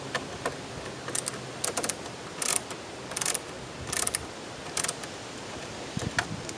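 Screws being removed from a Jeep TJ speaker cover, heard as bursts of ratcheting, clicking driver turns with short pauses between them, close and fairly loud with no talking.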